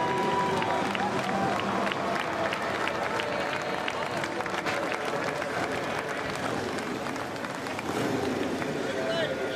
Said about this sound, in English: Getting a round of applause from the fans here inside the U.S. Bank Stadium.